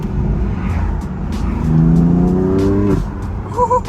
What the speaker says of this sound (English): listen to how the car sounds, bro. Ever since I got that delete